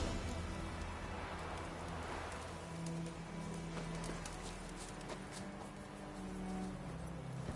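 Horse hooves clip-clop at a steady trot across the whole stretch in Witcher 3, a continuous rhythmic patter under a faint rain-like hiss, with no talk.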